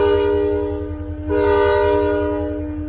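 Western Maryland coal train sounding its horn while backing up, a loud, sustained multi-tone blast with a brief dip before resuming, over a low rumbling engine.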